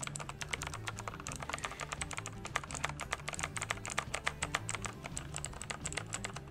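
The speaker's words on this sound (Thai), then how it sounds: "เสียงปุ่มกดนะครับของบลูสวิตก็จะประมาณนี้นะครับ" A NUBWO X30 mechanical keyboard with blue switches is typed on steadily, giving a rapid stream of crisp, loud clicks that sit close and clear over faint background hum.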